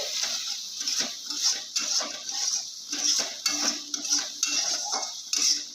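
Tomato curry is stirred in a pan with repeated scraping and clinking strokes of a spoon in an uneven rhythm, close and fairly loud over a soft sizzle, without speech.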